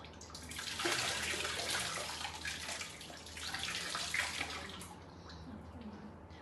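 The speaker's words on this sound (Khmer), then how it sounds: "សូមជំនួយការចាក់ទឹកលាងសម្អាតច្រាស" Running water poured by an assistant over hands and a scrub brush during a sterile hand-washing routine, a steady broadband splashing stream that swells and eases across the whole stretch with no voices.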